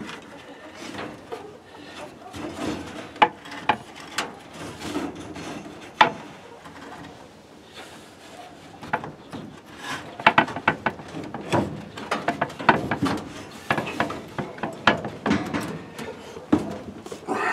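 Wooden chicken coop door being test fitted by hand: scattered knocks, scrapes and creaks of wood rubbing into place, with a few sharper clunks between quieter handling noises, close up.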